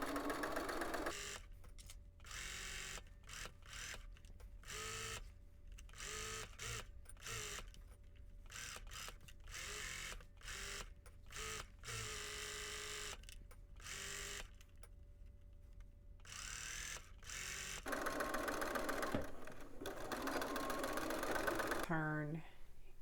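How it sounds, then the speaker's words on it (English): Close, loud sewing machine sews a 5/8 inch seam for a McCall's M8441 hood in rapid stop-start bursts, with short pauses between runs and a longer continuous stretch near the end. "Go ahead and stitch at 5/8 of an inch seam allowance"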